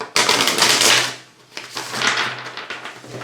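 Stiff new tarot cards shuffled by hand in several piles, giving a close, loud riffling burst, a brief lull, then a second softer stretch of shuffling.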